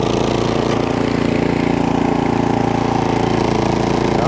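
A Cub Cadet 3X two-stage snowblower engine runs steadily and loudly close by, a constant throbbing drone with no change in pitch.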